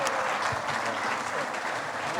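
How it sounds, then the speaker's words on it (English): Audience applause for panelists at a craft-beer industry talk, a dense, steady wash of many hands clapping, loud and sustained throughout. "Big round of applause for our panelists."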